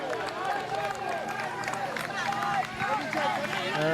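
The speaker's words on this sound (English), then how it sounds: "gathers greater roars from the crowd" A roadside crowd roars and cheers for cyclist Vincenzo Nibali on a Giro d'Italia stage, dense shouting and whistles with a commentator's voice running over it.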